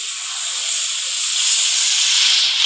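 Water poured into a hot pan of sizzling taro, giving a steady, loud hiss and sizzle that holds evenly throughout with no talking.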